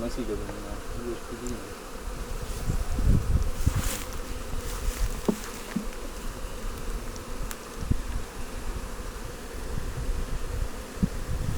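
Honeybees buzz continuously around a hive, a dense, steady hum with individual bees droning close by.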